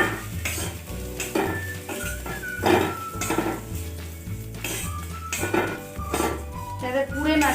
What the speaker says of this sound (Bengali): এতেই দিয়ে দেবো আমি চিড়েগুলো